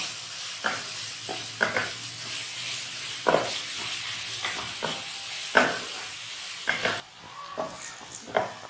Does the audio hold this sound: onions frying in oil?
yes